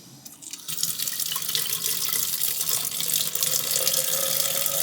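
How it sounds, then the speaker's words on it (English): Water running from a camper kitchen sink faucet with the water pump on, a steady close hiss of flowing water that swells after a quiet start and stays even. "I'm gonna turn on our water pump. You can hear it activated. We're gonna start with the kitchen sink."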